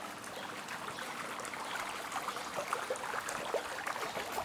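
Water from an outdoor poolside shower at a villa with gardens runs in a steady, continuous splashing spray, fairly close and unbroken throughout.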